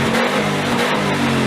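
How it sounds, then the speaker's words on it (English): A five-cylinder car engine revs loudly and continuously up close, with a throaty, uneven rumble throughout. "engine sounds great"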